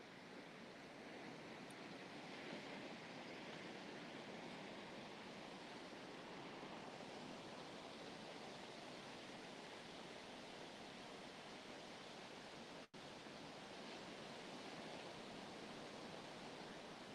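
Steady sea surf washing in a continuous broadband roar, with waves breaking and receding in a soft, even wash, close and moderately loud with no voices.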